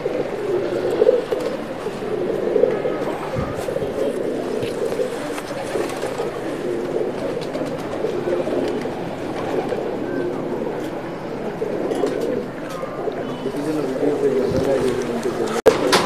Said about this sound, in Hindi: इनका चैंपियन कबूतर है